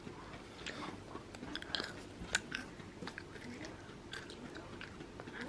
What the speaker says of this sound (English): Only thing you would say is that it's too hard to chew, like at first.